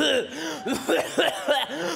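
A person coughs several times in quick succession, close and fairly loud, with short breathy bursts between.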